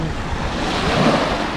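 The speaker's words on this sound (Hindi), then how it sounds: "तो फ़िलहाल हम वैसे समंदर की लहरों को एंजॉय करते हैं।" Sea waves at a beach in Langkawi, a loud continuous wash of surf with some wind rumble against the microphone, steady throughout the short stretch with no voices.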